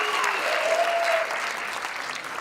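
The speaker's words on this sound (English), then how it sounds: "Round of applause." A comedy show audience gives a round of applause, a dense continuous clapping from a full room, fairly loud and even throughout, with a brief voice sounding faintly over it.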